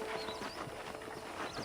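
Horse hooves clip-clop steadily in the video game Red Dead Redemption, a continuous soft patter of hoofbeats under ambient game noise, faint and without talk.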